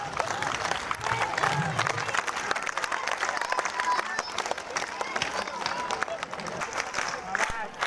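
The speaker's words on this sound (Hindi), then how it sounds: "इस बार ताली में परिवर्तन।" Crowd at the Aathun fair festival ground in Pithoragarh clapping in a changed, rhythmic pattern, busy and textured with sharp hand claps over general crowd murmur and voices.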